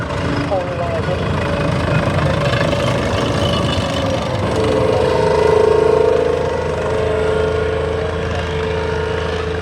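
A wartime tank engine runs steadily, rumbling and idling with a slight rise in revs midway at an outdoor vehicle event, loud and continuous beneath someone talking throughout.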